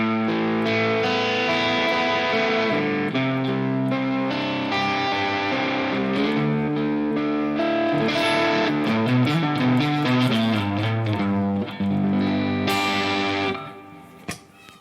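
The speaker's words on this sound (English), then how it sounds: "I like the split neck pickup for these kind of tones more, so let's compare the split mode" A distorted electric guitar, a Harley Benton Fusion 3 on its split neck pickup, plays a chordal passage with a warm, rounded tone, loud and continuous, fading at the end.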